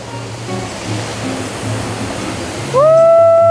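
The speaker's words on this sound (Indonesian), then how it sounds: "Ini air terjun yang keberapa ya?" A waterfall on a trekking trail roars as a steady, close wash of falling water, joined near the end by a loud, sustained tonal whine that rises and holds.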